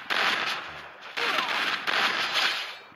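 Gunfire bursts from a shooting video game in three loud sharp volleys, each fading before the next, with a voice faintly present underneath.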